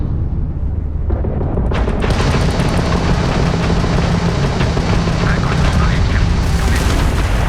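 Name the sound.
spaceship weapons firing and exploding in Starfield video game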